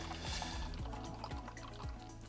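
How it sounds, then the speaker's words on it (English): Vocation Hop Skip Juice beer pours from a can into a glass at a campervan site on the Isle of Lewis, with rhythmic glugging and a steady liquid trickle, close and moderately loud. "It's a good sound of a beer pouring, that."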